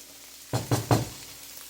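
An onion frying in a pan while leftovers are reheated gives three short, close sizzling bursts in quick succession, each dying back to a quiet hiss.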